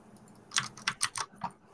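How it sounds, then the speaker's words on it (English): A short burst of loud clicks on a mechanical keyboard, about five sharp close keystrokes in quick succession. "I have a mechanical keyboard, so it sounds really loud."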